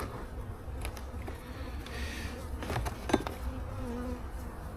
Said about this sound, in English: decent amount of bees up here, I guess.